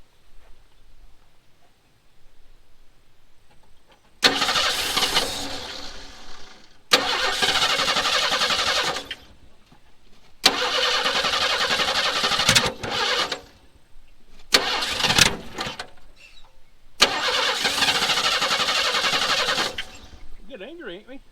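An old truck pulled out after twenty years, opened up on the choke, cranks and fires repeatedly, each start catching into several seconds of rough, loud running before cutting out, with voices talking between attempts.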